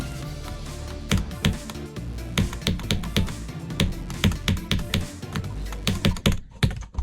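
Rapid, irregular clicking of a mouse or keys during a Geometry Dash level editor session, crisp close taps arriving in quick bursts and clusters with no talking.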